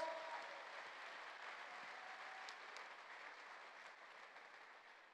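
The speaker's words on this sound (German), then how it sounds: "Herzlichen Applaus für" At the NIGHT4FIGHT 2023 kickboxing event, a crowd applauds a fighter being introduced in the ring, a steady, faint and distant patter of clapping that holds evenly throughout.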